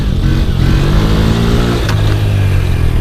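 An ATV engine revs steadily in second gear, a loud, close, continuous buzzing drone with a slight pitch shift midway, without any talking.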